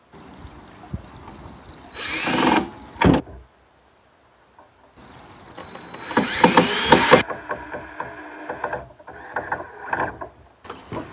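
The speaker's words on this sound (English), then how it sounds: "because this is 1-inch thick lumber, I'm using a 2-inch screw" A power drill drives a 2-inch screw into 1-inch thick lumber in two short, close whirring bursts separated by a pause, with quieter handling noises around them.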